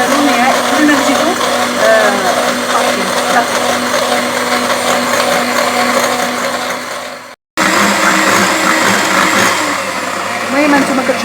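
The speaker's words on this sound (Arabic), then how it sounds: "من بعد غنزيد السرعه على الباطور، غنبقى نطرب هنا حتى كيتبقى لي الخليط وكيتجاوب كله" Electric stand mixer running at high speed, whipping eggs and sugar for a Swiss roll sponge; a loud steady motor whir with a brief cutout midway, while someone talks over it.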